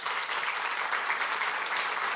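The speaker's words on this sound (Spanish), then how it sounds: "también merece un fuerte aplauso." Steady audience applause at a foundation anniversary event, dense and even clapping filling the room for about two seconds without a break.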